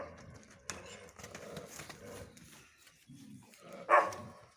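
A dog barks outdoors near cattle, a single loud close bark near the end after quieter shuffling and background activity.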